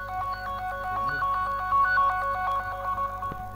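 A mobile phone rings out with a melodic electronic ringtone, triggered remotely, its repeating tone pattern playing clearly and continuously nearby with no talking.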